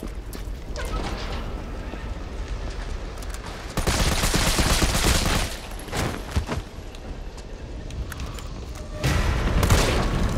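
Handgun fire from Resident Evil 3 crackles in loud bursts of rapid shots, with quieter stretches of game noise between them and no talking.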